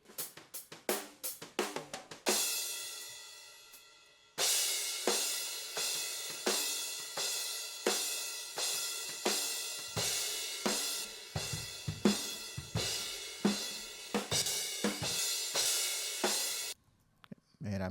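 Isolated drum overheads, high-passed at 350 Hz: quick hits building into a steady groove of washy crash and ride cymbals, each strike ringing out and decaying, loud and close.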